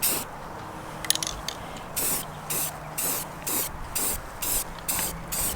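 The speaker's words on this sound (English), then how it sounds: "We just really wanted to spray paint it." Repeated short bursts of hissing aerosol spray painting an '18-'21 PRL intercooler, about eight evenly spaced sprays after a brief rattle, close and fairly loud.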